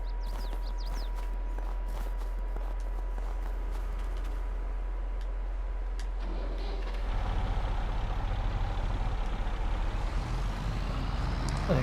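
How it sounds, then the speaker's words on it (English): Truck engine in Farming Simulator 22 idling with a steady low drone, joined by a hiss and rising engine tone partway through, alone with no talk. "What a great sound off this engine"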